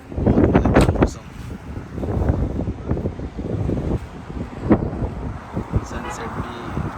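Strong gusty wind buffets the microphone on a road trip near Karachi and Hyderabad, a constant roaring rumble with someone talking over it.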